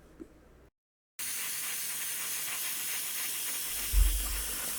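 Flat varnish is airbrushed onto a 1/72 scale model Harrier jet: a sudden steady, loud hiss of spray starts after a brief silence and continues with a low thump near the end.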